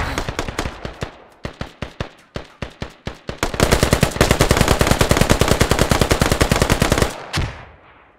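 Automatic gunfire in the video game Operation: Vulture: sharp single shots and short bursts give way to a long, loud, rapid sustained burst, then a final shot fades out.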